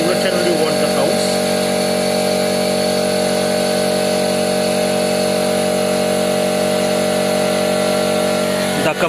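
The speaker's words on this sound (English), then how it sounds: "The compressor has started since it makes a lot of noise, so we will just pause for a second." An air compressor feeding a compressed-air particle counter runs noisily, producing a loud, constant mechanical hum with a buzzing tone that holds steady from start to finish.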